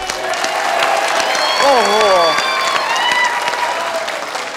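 A studio audience on Iron Chef Thailand cheers and applauds a chef in a continuous loud roar of clapping, with whoops and an excited shout rising over it.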